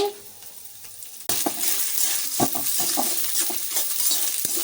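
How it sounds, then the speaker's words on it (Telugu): After a quiet moment, dry red chillies drop into a pan with golden urad dal and burst into a sharp, loud sizzle, with scraping stirs and small pops continuing close by. "ముందుగా మనం కట్ చేసి పెట్టుకున్న ఎండు మిరపకాయలు వేసుకోవాలి"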